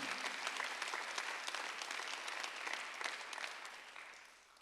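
A church congregation at a Sunday worship service claps together in a soft, fairly distant burst that holds steady before fading away toward the end.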